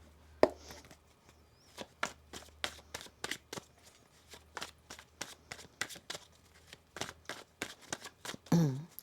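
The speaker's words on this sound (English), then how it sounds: "One more shuffle here." A deck of tarot cards being shuffled, a long run of crisp, evenly spaced riffling snaps and flicks, close and fairly quiet, with short pauses between bursts and a louder rustle at the end.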